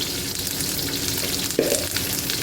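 Mustard seeds and cumin splutter in hot oil as a tempering for okra sambar, giving a steady close crackle with one brief louder burst partway through; no voices.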